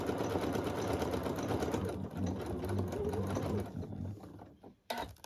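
A sewing machine runs steadily, stitching a white table runner, its rapid mechanical chatter continuous and close for most of the span before slowing and stopping near the end with a few brief restarts.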